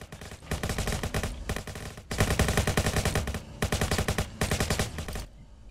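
Sustained automatic fire from an auto rifle in the video game Guardians Of Orion, rapid loud bursts with short pauses between them and no talking.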